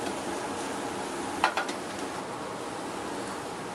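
Cremini, chanterelle and morel mushrooms sauté in a pan, giving a steady, moderately loud hiss of sizzling throughout, with a brief clatter of utensil against pan near the middle.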